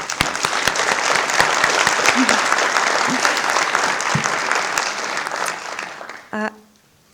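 A crowded audience at a history talk on Oregon's Grand Ronde tribe claps steadily in dense, sustained applause for about six seconds, then it thins out and stops abruptly.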